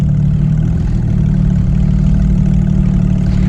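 A 2019 Porsche GT3 RS engine held at high revs on launch control, a loud, dense, continuous roar recorded close up with no voices.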